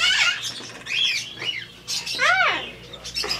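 A parrot gives a series of sharp, rising squawks and chirps close to the microphone, in short bursts separated by brief pauses, with a little quiet talk in the background.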